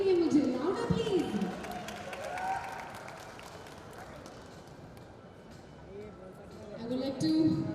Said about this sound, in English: Guys, a big round of applause.